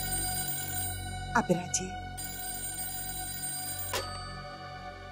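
A telephone rings indoors during a family scene, with a few sharp bell bursts over a steady background tone and another single ring near the end, while a brief spoken word is heard.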